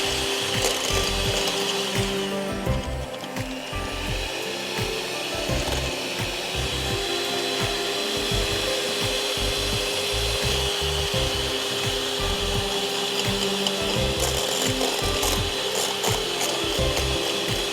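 Three eggs beaten hard by hand in a bowl for a white chocolate cake batter, a continuous loud rapid scraping and clacking rhythm that fills the whole stretch without pause.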